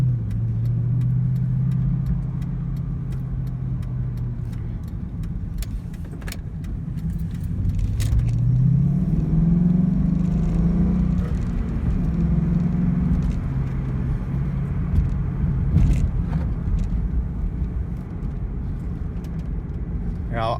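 A 2001 Ford Mustang Bullitt V8 cruises on the highway in fifth gear, a steady low engine drone with road and wind noise throughout and someone talking over it.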